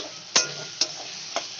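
Spice paste frying in a pan for a bottle gourd and paneer dish, a low steady sizzle broken by three sharp scraping strokes of a spatula at spaced intervals.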